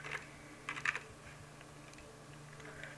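A computer keyboard clicks softly during Terraria gameplay, with a few quiet key presses scattered over a low background hum and no voices.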